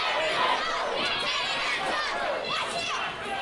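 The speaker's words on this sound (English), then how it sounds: "There's a crowd with the rock and roll chants." A Mid Atlantic wrestling crowd raises rock and roll chants, a loud rolling mass of shouting and cheering voices that swells and dips over a few seconds.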